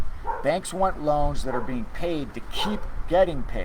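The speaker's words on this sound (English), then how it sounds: "I don't know if y'all can hear my dog barking there." A dog barks in the background of an indoor room, short yips and bow-wow barks recurring under continuous close speech from someone talking throughout.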